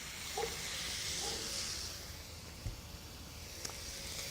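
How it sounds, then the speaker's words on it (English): Olive oil sizzles in a hot cast iron pan set on a grill, a faint, steady hiss that runs throughout with a couple of small clicks. "I wanna sear them in a cast iron pan sitting on the grill"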